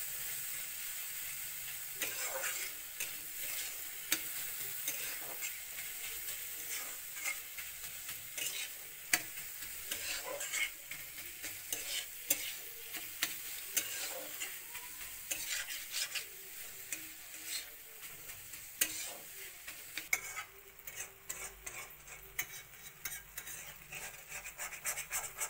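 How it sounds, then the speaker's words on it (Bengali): Food stirs and fries crisply in a pan, with a steady sizzle and frequent scraping and clinking of a spatula against the metal, close and continuous, with no talking. "ভালো করে নাড়াচাড়া করে একটু ভাজা ভাজা কড়কড়া করে করতে লাগবে"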